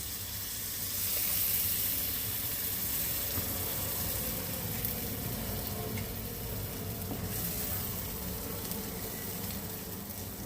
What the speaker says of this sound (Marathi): 5 मिनिटं फ्राय होण्यासाठी झाकून ठेवू आपण.